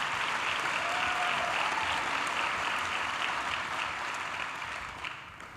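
An audience at a school district's State of Education address applauds its students, a dense, steady wash of many hands clapping at close range that holds loud for several seconds before tapering slightly at the end.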